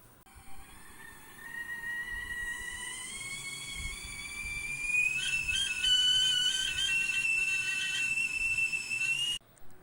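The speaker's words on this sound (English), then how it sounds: "This was the sound of whistling of a kettle." A kettle whistles on its own, a thin steady tone that rises in pitch and grows louder over several seconds before cutting off abruptly.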